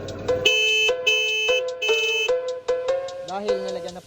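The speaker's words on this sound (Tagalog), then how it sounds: "Malakas na rin yung busina niyan mga boss." A loud, tinny horn on a modified, battery-powered Choinori motorcycle honks in several short bursts, followed by a wavering electronic tone, close by.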